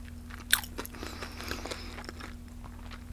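Crunchy, flaky breakfast food, a sausage and egg McMuffin or Paris baguette, is bitten with one sharp crunch, then chewed quietly and steadily up close, with no talk.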